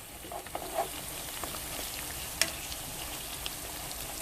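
Saltfish sautéing in a pot for breadfruit cou cou, a soft steady crackling fry with scattered pops and one sharp clink of a utensil, heard close but faint.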